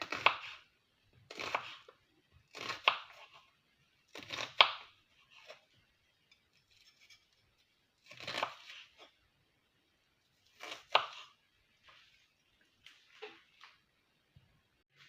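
Knife slicing three onions into half-rings on a board, a series of short crisp chopping bursts in clusters with pauses between, close and fairly quiet with no talk.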